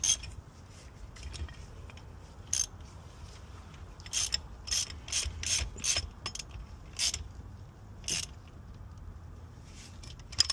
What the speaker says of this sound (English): So, I'm gonna tighten these first like I was doing.